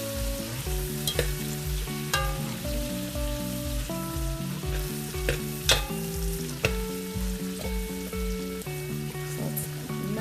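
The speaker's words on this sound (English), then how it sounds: "So you're gonna add a stick of butter to that. And you're gonna let that melt." A stick of butter melting in a hot pan for an Alfredo sauce, steady close sizzling and frying hiss throughout, continuous and even with faint stirring, no voices.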